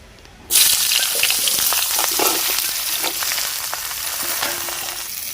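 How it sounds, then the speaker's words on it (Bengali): Eggplant pieces dropped into hot oil left from frying fish, bursting into a loud, continuous sizzle with bubbling crackles that holds steady, no talking. "আমি ওই তেলে এবার বেগুনগুলো একটু ভেজে নেব।"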